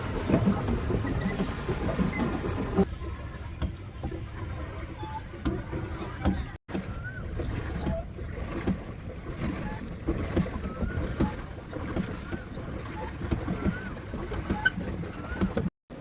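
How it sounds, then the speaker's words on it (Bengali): A paddle boat moves through water on an outing, with steady splashing and churning close by, soft rhythmic knocks, and faint bird calls in the background. "কোকিলের ডাক নৌকা আর পানির শব্দ কী যে পিচফুল একটা পরিবেশ"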